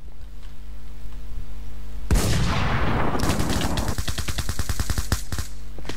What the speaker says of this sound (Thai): เดี๋ยวเราจะทำการยิงไปรอบสุดท้ายแล้วมันมาแล้ว